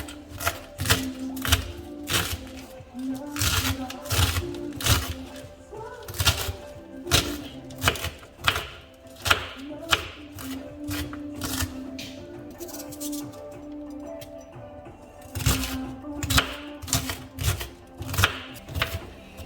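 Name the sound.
knife chopping celery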